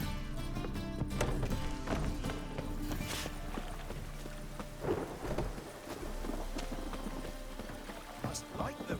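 Steady rain falls in The Witcher 3: Wild Hunt on PS5, a dense wash under hoofbeats, a few thunder-like rumbles and a voice speaking over it.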